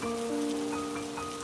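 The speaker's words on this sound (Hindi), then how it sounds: "अरे वाह, बारिश!" Rain falls in a soft, steady patter, quiet and brief, with a faint tonal hum in the background.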